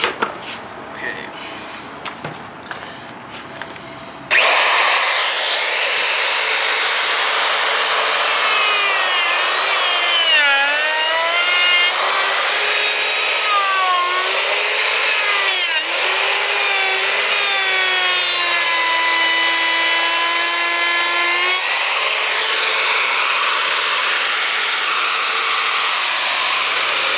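Wood router cutting a groove in a wooden board: a loud, steady high-pitched whine starts abruptly after a few quiet seconds of handling noise, with the pitch shifting up and down as the bit bites and the cut proceeds.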